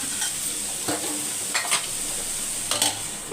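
Vegetables for chicken fried rice sizzle steadily in a pan over a low flame, with a few scrapes of a spoon stirring them at intervals, close and clear.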